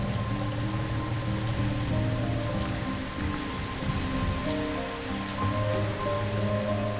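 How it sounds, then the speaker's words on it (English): Heavy monsoon rain pours steadily onto surfaces in a dense, continuous hiss with no voices, the downpour close and unbroken throughout. "And in the space of just a few hours, over 50 millimeters of rain falls."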